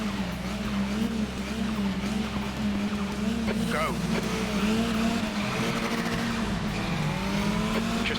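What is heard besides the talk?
KTM X-Bow race car starting in Raceroom video game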